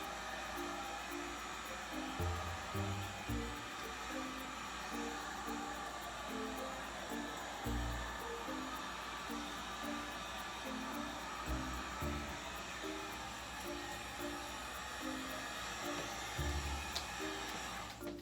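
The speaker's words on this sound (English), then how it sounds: "when you heat it up with this heat gun, it thins out." A heat gun blows a steady, faint airy hiss over clear resin coating an acrylic pour, running continuously with soft intermittent knocks underneath.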